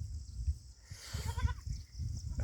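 A goat on a Nepali village farm gives a single short quavering bleat midway, moderately close, among soft rustling and low outdoor noise.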